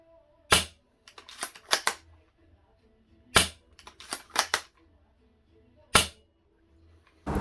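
Double Eagle M66 airsoft sniper rifle firing BBs outdoors at long range, several sharp close snapping shots spaced a few seconds apart, each followed by faint clicks of bolt cycling.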